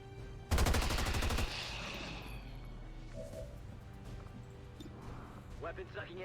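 A loud, rapid burst of automatic weapon fire in XCOM 2 rattles out for about a second, followed by lingering game ambience and some faint voice-like sounds.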